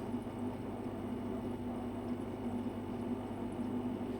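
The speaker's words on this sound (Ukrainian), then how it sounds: "Ми чуємо, як е, шумить сам двигун, і якраз чуємо, як зараз іде фреон по трасі" A home dehumidifier's compressor motor runs with a low steady hum, and the faint whoosh of freon moves through the refrigerant line, even and continuous at close range.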